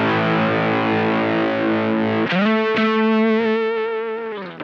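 Electric guitar through a Dr. No Effects TVL Octavia pedal, a signature model, with the Blame Shifter turned up, starting as a fuzzy sustained chord, then a gritty octave-up note line with sharp picked attacks, loud and alone.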